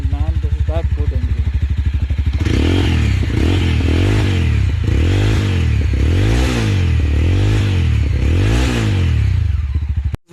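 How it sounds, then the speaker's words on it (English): Mahindra Mojo 300 ABS motorcycle from 2020 with a dual exhaust, its engine running as the bike rolls. A steady, close engine hum rises and falls in a regular wavering pattern throughout. "And while it rolls, the engine is so silent."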